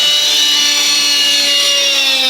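A gas-powered RC helicopter hovers nearby, its engine and spinning rotor blades making a steady, loud, high-pitched drone with a constant whine that holds throughout without pause.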